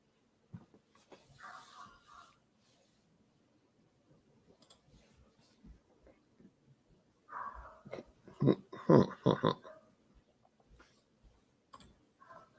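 A neighbouring dog barks in bursts from a short distance away, with a sharp yelp early on and then a louder cluster of barks in the second half, against a quiet indoor background.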